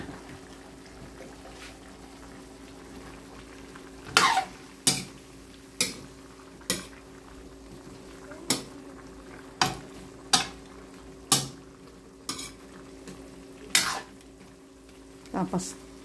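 String beans and okra go into a boiling pot of pinakbet, with repeated sharp clanks of a utensil against the pot over a steady bubbling simmer.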